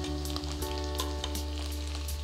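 Potatoes sautéing in ghee with cumin and chilli, a close steady sizzle with crackling pops over a low constant hum, no talk.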